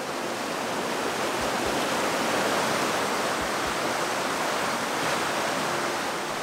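A spring creek in eastern Idaho rushes steadily, a dense unbroken hiss of flowing water heard close and fairly loud, with no voices over it.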